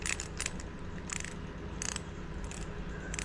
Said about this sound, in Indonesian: ini bunyi klikernya ini sebenarnya bukan kliker aslinya